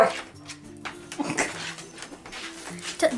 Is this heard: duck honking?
no